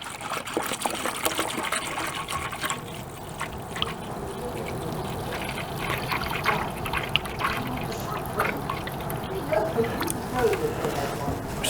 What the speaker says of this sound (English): So I'll pour that in here.